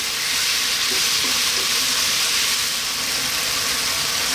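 Chicken seasoned with mixed herbs, black pepper and salt frying in a pan on the heat, a steady loud sizzle with stirring throughout, no talking.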